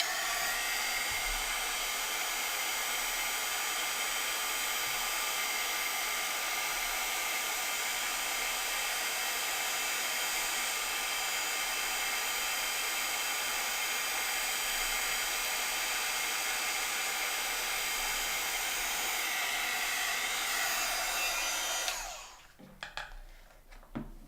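A heat gun blows steadily and loudly over embossing powder on stamped lettering, a continuous airy roar that holds for about twenty-two seconds before cutting off, followed by a few faint clicks and handling noises.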